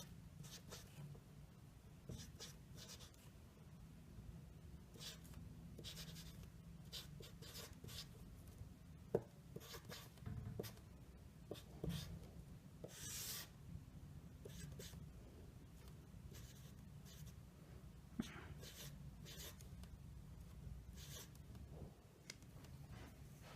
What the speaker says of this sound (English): I'll write it out